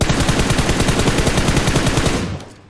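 Rapid automatic M4 rifle fire rattles in a battle royale video game, a loud, dense, steady stream of shots lasting about two seconds before cutting off and fading.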